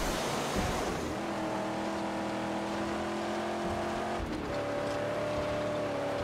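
A car drives in the Mad Max video game, its engine a loud, steady droning whine that shifts pitch briefly as it changes gear, then carries on evenly.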